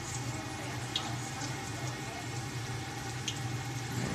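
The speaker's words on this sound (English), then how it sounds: "frying her first batch of Chruścikis" Polish chruściki pastry dough frying in hot oil, a steady broadband hiss and sizzle with a low hum underneath and a few faint pops, constant and close throughout.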